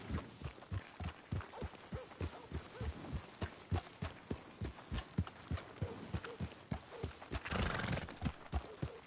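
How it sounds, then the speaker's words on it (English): Steady clip-clop of a horse's hooves, evenly spaced and fairly close, carrying on throughout with a brief neigh or snort near the end and no talk. "Wow, fine horse there."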